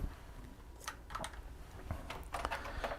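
Keys clatter as someone types on a basic computer keyboard, scattered quick clicks in short bursts, quiet and close with no talking.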